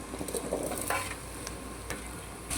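Onion and capsicum pieces hit hot oil in a kadai for a capsicum gravy, giving a soft, close sizzle with light stirring scrapes, fairly quiet and with no talking.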